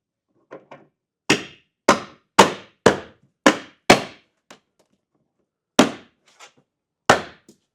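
Car window trim on a VW Scirocco R is pressed and tapped back into place by hand, a series of about eight sharp, close knocks with irregular gaps, some in quick succession.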